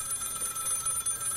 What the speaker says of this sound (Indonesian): Tiba-tiba dengar suara telepon.